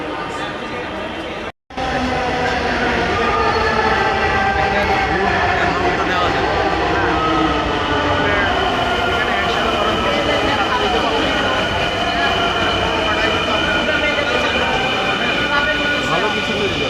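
Inside a Dhaka metro rail train on the move, a loud continuous rumble and whine of wheels and motors with tonal hum, briefly cut at the start and then steady throughout.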